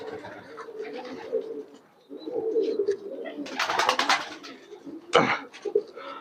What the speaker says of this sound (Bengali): এই যে চারিদিকে শুধু কবুতর আর কবুতর